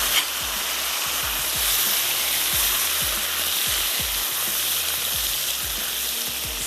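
Tomatoes go into a hot pan of potatoes over lowered heat, setting off a strong, continuous sizzle with repeated spoon stirs and scrapes at a moderate level, no voices.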